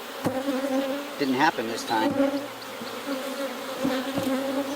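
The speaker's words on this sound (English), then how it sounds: "a flare-up of bees" A thick, steady drone of honey bees swirls around an open hive, close and continuous, while someone speaks briefly over the buzzing.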